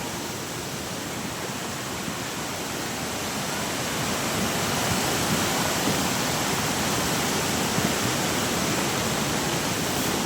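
Steady, loud rush of floodwater roaring without pause after heavy rain, with a slight swell partway through.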